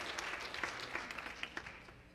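A church congregation at a Pentecostal evening service claps hands in a brief, soft, uneven burst of many hands, heard faintly from a distance.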